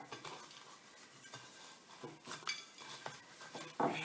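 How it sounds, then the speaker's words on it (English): A hanging bird feeder is rolled and pressed through loose seed, giving repeated gritty scraping and rustling with small clicks and rattles, close and fairly quiet, in uneven bursts. "Lots of rolling to make sure it's coated."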